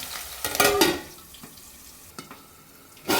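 Broad beans fry in a pan, a soft sizzle punctuated by several loud clattering stirs of a spoon against the metal, with quieter frying between them.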